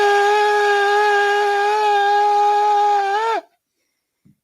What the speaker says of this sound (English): I just realized that I didn't play my shofar so far.